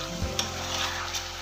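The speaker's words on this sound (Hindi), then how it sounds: "अदरक लहसुन का पेस्ट डालकर फिर से हम इसको एक से दो मिनट के लिए फ्राई करेंगे।" Ginger garlic paste sizzles in hot oil in a pan for chicken handi, a dense, continuous frying hiss with a couple of brief stirring knocks, close and steady.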